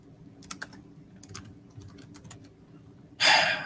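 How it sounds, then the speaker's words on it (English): Bursts of clicky typing on a computer keyboard, irregular and fairly close, with pauses between runs and a louder broadband rush near the end. "So I can't just type in lightning manipulation Benton."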